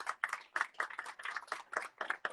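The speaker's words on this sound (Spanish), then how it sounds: "vamos a darle un aplauso a Calimán en sus 60 años" An audience at a tribute honoring Victor Fox, writer of Kalimán, for the character's 60th anniversary claps steadily, giving a dense, fairly rhythmic patter of hands at moderate volume with no talking over it.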